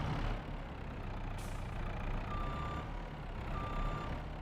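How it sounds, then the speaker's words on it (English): Tractor engine in Farming Simulator 22, a deep, meaty idle rumble that stays steady and fairly quiet throughout, with a high reversing beep sounding twice over it. "I like the engine this thing has. Sounds very meaty."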